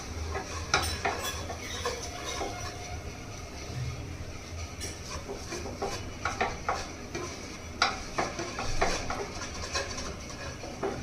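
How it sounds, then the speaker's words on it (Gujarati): Laapsi, a Gujarati cracked-wheat sweet, being stirred in a pot on the stove, giving a steady scraping and rustling texture with scattered sharper clicks of the spoon against the pot, close up and without talk. "પાંચ 7 મિનિટ પહેલા અને 5 મિનિટ પછી આપણે એને હલાવી લીધું છે."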